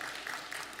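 Congregation applause during an Easter Sunday church service, a brief, steady burst of clapping filling the room.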